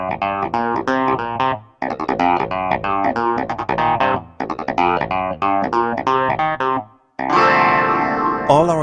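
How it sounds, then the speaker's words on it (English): Clavinet patch on a Dexibell Vivo H7 digital piano played in bright, funky staccato chord stabs with effects such as phaser and chorus, short rhythmic bursts separated by brief pauses, ending in a sustained wash. "After the Wurlitzer sound, we're going to listen to the clavinet."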